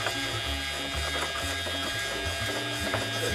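The electric motor on a homemade glass bottle cutting jig runs steadily close by, a continuous mechanical hum with a faint shifting tonal whir underneath.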